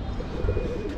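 A pigeon on a rooftop gives a short, soft, low coo, heard once in a brief moment against quiet background hiss.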